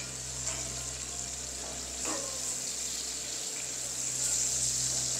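Ginger and garlic fry in about half a cup of hot oil for an Afghani chicken gravy, a steady close sizzle with a low hum behind it and occasional stirring clinks.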